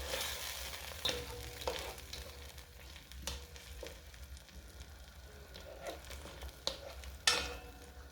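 Blended and chopped tomatoes with sausage are stirred in a pan over a continuous soft simmering sizzle, with scattered sharp scrapes and clicks of the utensil against the pan.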